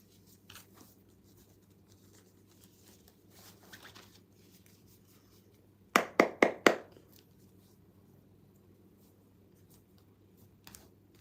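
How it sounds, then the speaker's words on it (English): Tarot cards being shuffled in a quiet room: faint scattered rustles, then a quick run of four sharp, close card snaps and taps, followed by near silence. "I'm shuffling your tarot cards."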